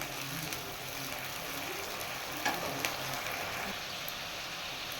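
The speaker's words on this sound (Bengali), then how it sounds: "এবার পরিমাণ মতো হলুদ, নুন আর শুকনো লঙ্কার গুঁড়ো দিয়ে মশলাটা ভালো করে কষিয়ে নেব।" A steady, quiet sizzle of masala frying with turmeric, salt and dried chili powder runs throughout, with a couple of faint stirring touches near the middle and no one talking.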